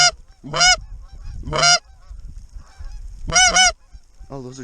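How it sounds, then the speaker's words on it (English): Speckled-belly geese circling over South Dakota in blizzard conditions give loud, high yelping calls in several separate bursts with short quiet gaps between them. "Oh, those are speckled bellies"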